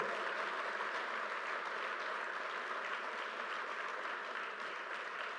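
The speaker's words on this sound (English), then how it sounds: "Let's give that a round of applause." A crowd applauds steadily at the opening of the newly completed Terminal B at LaGuardia Airport, a dense, even wash of clapping heard from a distance for about five seconds with no talk over it.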